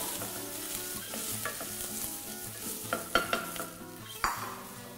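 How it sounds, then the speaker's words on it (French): Chopped leek goes into a frying pan with onions and garlic for a vegetable soup and is stirred, giving a steady soft sizzle under scraping utensil sounds and a few sharp taps against the pan near the end. "C'est là où vous rajoutez le poireau."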